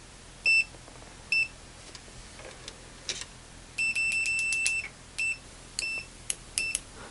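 A MUSTOOL MDS9208 multimeter in continuity mode gives sharp electronic beeps, some short single chirps and some held longer as the probe leads make and break contact, clear in a quiet room.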